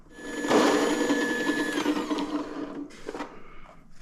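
A coffee grinder freshly grinding coffee beans whirs loudly and steadily close by for about two and a half seconds, then winds down and stops, leaving a few faint clicks.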